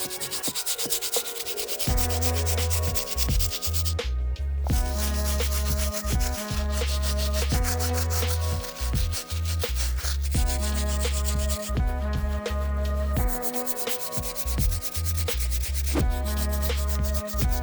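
Stiff and medium bristle brushes scrub the midsoles and outsoles of Air Yeezy 1 sneakers with a cleaning solution, a steady rough rubbing that carries on loudly, broken by short pauses.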